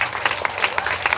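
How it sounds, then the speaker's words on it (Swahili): A brief burst of audience applause at a youth end-of-year party, many hands clapping together close and loud for about a second. "Tupigie Mike makofi."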